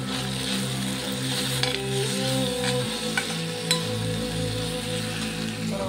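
Red chilli sauce and soy sauce being stirred together in a frying pan, with a steady close sizzle and soft scraping stir strokes throughout, no talking.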